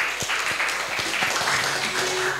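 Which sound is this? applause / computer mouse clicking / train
applause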